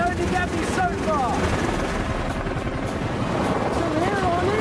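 A helicopter in flight, heard from inside as a loud continuous rotor and engine roar that fills the whole clip, with a voice talking faintly underneath.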